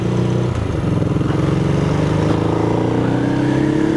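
A new Ducati Hypermotard motorcycle pulls away from a standstill, its engine note climbing steadily in a loud, continuous drone from start to finish.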